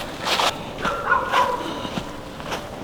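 Several dogs tied up on a farm bark at night in freezing cold, about -8°C. Their short barks repeat at a moderate distance, and people move nearby.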